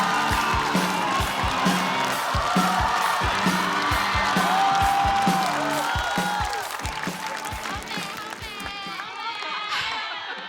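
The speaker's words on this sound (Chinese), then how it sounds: "我们掌声有请七七" A studio audience at a stand-up comedy show bursts into sustained applause with cheering and whoops, loud and continuous for about ten seconds before tapering slightly near the end.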